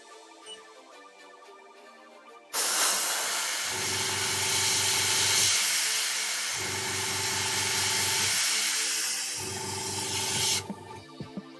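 Spray paint is applied to a model bus, a close, loud hiss that bursts on suddenly and holds for several seconds, with a pulsing mechanical hum underneath, before cutting off.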